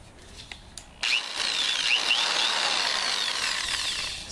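Harbor Freight Drillmaster $12 electric drill, a few soft clicks before the motor kicks on with a sudden whine that runs steadily and loudly, rising and falling slightly in pitch, with no voices.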